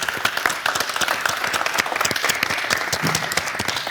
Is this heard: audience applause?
yes